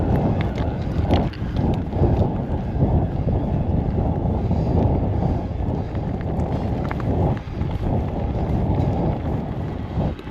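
Strong wind buffeting on a misty upland mountain path in Snowdonia, a loud continuous low roar with gusting rumble against the microphone, steady throughout with no speech.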